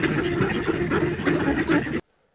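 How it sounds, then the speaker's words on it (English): A duck quacks in a rough, raspy run of calls lasting about two seconds, loud and close, then cuts off abruptly into silence. "The closest sound we may have today to that of a dinosaur may be the quack of a duck."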